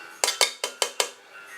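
Cooked rice, drained after eight minutes of boiling, tipped back into a metal cooking pot for beef vindaloo, giving five quick metallic clanks in an even rhythm, close and fairly loud, with no talking.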